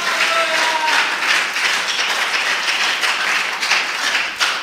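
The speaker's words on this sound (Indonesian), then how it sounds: "Beri tepuk tangan buat Tuhan kita." A church congregation claps for God during a sermon by Ps. Michael Rapar, producing a continuous, fairly loud wash of clapping that holds steady throughout, with no talk over it.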